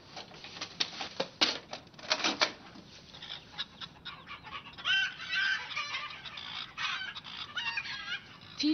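Chickens kept in stacked battery cages, a dense chorus of clucks and squawks from many birds with sharp bursts and rattling clicks, loud and close throughout.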